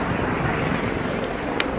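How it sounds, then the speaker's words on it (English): Helicopter flying low over a St. Patrick's parade, a loud, dense rotor and engine roar filling the whole moment, steady and close, with a faint crowd or voice underneath. "That's the first time I got upstaged by a helicopter."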